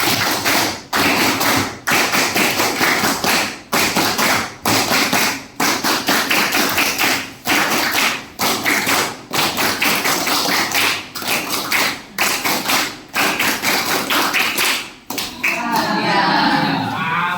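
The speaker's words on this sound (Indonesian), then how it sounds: "tepuk siap, tepuk bahagia" A middle-school class in Pangururan performs a rhythmic group clapping chant, many hands striking in unison in a steady repeated pattern of sharp claps with brief pauses, ending in a softer rustle of voices and movement.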